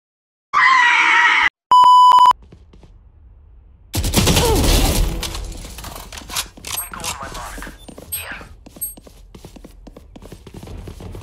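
In Valorant, the planted spike gives two loud electronic beeps, then heavy gunfire and mechanical clatter erupt and continue with sharp repeated shots and bursts.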